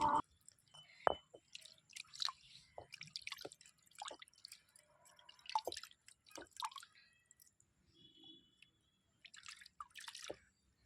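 Water poured over a stone grinding slab while it is washed after grinding henna leaves, giving scattered close drips, splashes and wet squishing sounds in irregular bursts with short pauses, with no talking.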